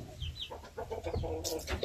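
A hen clucks close by on a backyard gamefowl breeding farm, giving several short, rhythmic clucks with a few higher calls, with no talk over them.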